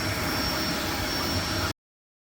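A Creality K1 Max 3D printer running at high speed gives off a steady, loud whirring hiss of fans and motors, close by, that cuts off abruptly.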